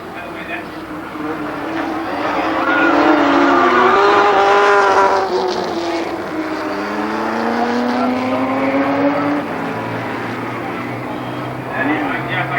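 Legends cars race at Columbus Motor Speedway in 1996, engines droning loud and near with rising and falling pitch as cars pass, while a track announcer calls the action over the roar.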